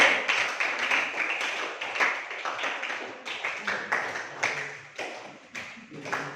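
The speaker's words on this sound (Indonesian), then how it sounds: "tepuk tangan dulu" Group clapping in a classroom lesson, a brisk, steady patter of many hands at moderate loudness that carries on for several seconds with a voice briefly over it.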